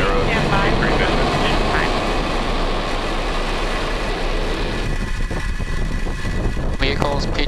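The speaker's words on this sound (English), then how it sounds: "Ignition and liftoff. We have Falcon 9 and the Aero C3 mission." SpaceX Falcon 9 rocket ignition and liftoff, a loud continuous roaring rumble that fills the whole stretch, with voices talking over it.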